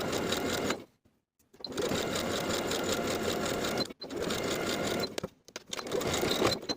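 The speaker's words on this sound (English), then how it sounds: "Edge stitch from top to bottom." A sewing machine edge-stitches the placket of a plaid wool jacket in long, steady bursts of close, even whirring, broken by short pauses as the fabric is repositioned.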